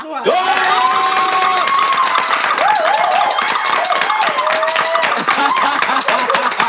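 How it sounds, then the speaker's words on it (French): An audience at a Christmas Day gathering bursts into loud, sustained cheering, whooping and clapping all at once, shouting voices layered over dense applause that continues without pause. "Et à 3, nous allons applaudir parce que nous sommes arrivés au 25 décembre"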